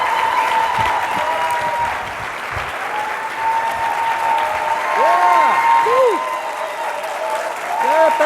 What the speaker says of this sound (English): let's receive him with a big applause